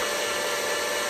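An electric hand mixer whirs steadily as it beats four eggs into red velvet cupcake batter, a continuous close, loud, high-pitched buzz with no pauses.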